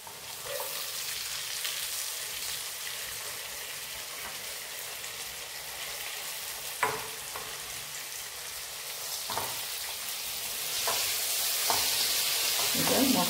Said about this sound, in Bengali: এবার এর মধ্যে এই ভেজে রাখা কপিটা দেবো